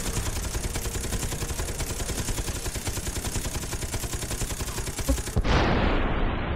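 Rapid automatic gunfire rattles steadily in the video game Scourge: Outbreak on PS3, then a loud bomb explosion bursts near the end, trailing off into a rumbling decay.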